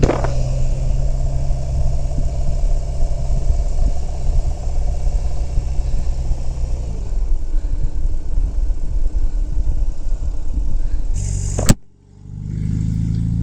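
Large 941 lb motorcycle engine idling while overheating, a steady loud rumble that shifts slightly midway, then cuts off abruptly near the end, leaving a brief low after-sound.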